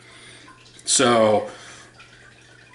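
Warm water pours into a glass casserole dish in one short, splashy gush lasting about half a second, with a faint hum before and after.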